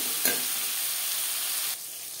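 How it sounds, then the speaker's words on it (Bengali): Slices of pointed gourd (potol) fry in hot oil, a dense, close sizzle that holds steady before dropping to a quieter hiss near the end. "একইভাবে ভেজে নেব।"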